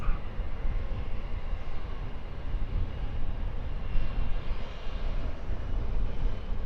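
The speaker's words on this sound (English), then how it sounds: "We're looking at EasyJet flight 2323. Destination is Barcelona." An EasyJet passenger jet at Luton Airport produces a steady, broad engine roar that holds at a constant, fairly loud level throughout, heard at a distance in a rural setting with no talking.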